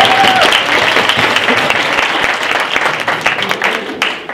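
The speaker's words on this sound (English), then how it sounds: "Give a round of applause." A school crowd applauds during a Happiness Week assembly talk, thick continuous clapping from many people that thins slightly toward the end, with faint voices mixed in.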